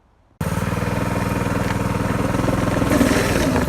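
A small engine on a motorized drift trike starts abruptly and runs steadily on gravel, a loud close buzzing drone with a rapid pulsing beat that rises slightly partway through.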